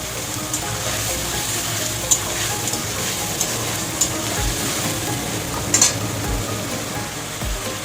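Ginger and garlic paste fries in a pan with a loud, steady sizzle, interrupted by scattered stirring scrapes and a few low knocks against the pan.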